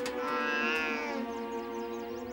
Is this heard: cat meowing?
yes